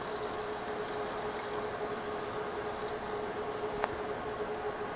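Water sloshing steadily as rice is gently rinsed in a pot, a continuous soft wash of liquid with one brief clink near the end, no talking.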